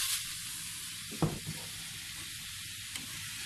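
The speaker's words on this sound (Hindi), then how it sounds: "इसमें फ्राई हो रहा है।" Beef mince frying in a pan over low heat, giving a steady soft sizzle throughout with a brief louder crackle and stir sound near the middle.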